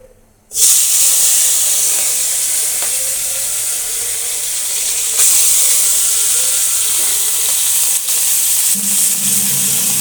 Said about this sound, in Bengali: এখন আমি চুলায় দিয়ে দিব মাছগুলো